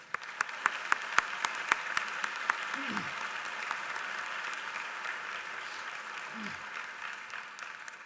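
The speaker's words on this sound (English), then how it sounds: "I want to take a moment for a round of applause and appreciation" Applause at a medical college commencement ceremony, with a few sharp nearby claps at the start that blend into broad, steady clapping from a large audience, fairly soft overall, with a brief voice sound underneath.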